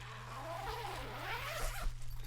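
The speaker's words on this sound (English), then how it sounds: "So on the side, you have this opens the zipper to this," A zipper slides open along the side of a replica title belt case in one quick, close rasping pull, set against a faint steady hum.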